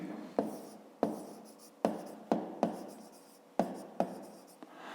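A pen scratches out handwriting while working a fifth-grade maths exercise: quiet, separate strokes with sharp starts, about nine of them at an uneven pace, close by with no voice.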